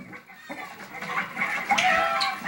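Several chickens cluck and squawk close by, growing busier and louder toward the end.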